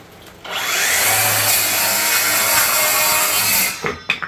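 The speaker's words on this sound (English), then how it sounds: "Let's do a couple of cuts on this cedar 2x10, I believe." A Flex 24V cordless rear-handle circular saw with a 6 Ah lithium battery cuts through a cedar 2x10, spinning up abruptly into a loud, steady whining cut that holds for about three seconds, then winds down quickly as the brake stops the blade.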